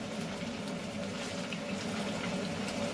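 Water poured into a clay pot of doro chicken stew, a steady, continuous rushing pour at moderate level lasting throughout, with no voices.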